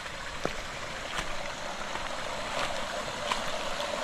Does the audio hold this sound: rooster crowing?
no